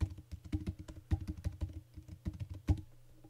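Keys tap rapidly on a computer keyboard as a new password is entered during home network router setup, with quick irregular clicks close up that end with a final harder keystroke.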